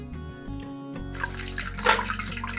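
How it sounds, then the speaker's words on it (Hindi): Cooking oil poured into a pot for black chickpea pulao gives a soft, close liquid trickle and light splatter that starts about a second in and carries on, with a brief louder splash near the end and no talking. "ऑयल शामिल करते हैं"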